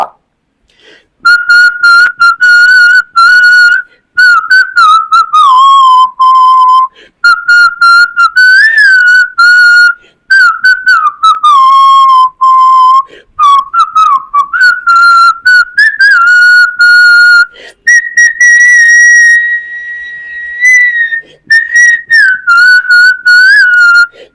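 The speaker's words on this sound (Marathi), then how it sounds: "मी शिट्टी वाजवणार ते गाणं कुठलं आहे तुम्ही ते कमेंटमध्ये आवर्जून काढा" A person whistles a song tune, loud and close, in long melodic phrases broken by short pauses, with no other sound behind it.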